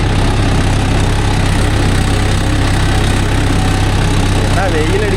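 A Mahindra Yuvo Tech Plus 585 4WD tractor engine pulling a 9-tine cultivator runs with a loud, steady, close diesel drone and constant vibration, with a voice faintly audible beneath it.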